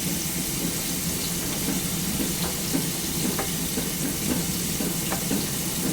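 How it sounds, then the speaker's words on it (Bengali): Food fries in a pan with a steady, dense sizzle and crackle, scattered small pops rising over a constant hiss, close and unbroken throughout. "একদিকে একটা ফ্রাই হচ্ছে আর এইদিকে একটা ফুটছে"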